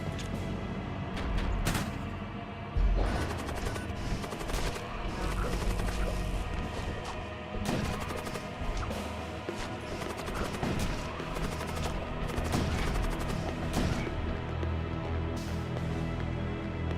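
Weapons fire in a space battle in the video game Void War: repeated rapid bursts of gunfire and impacts, loud and continuous throughout, with layered rattling shots.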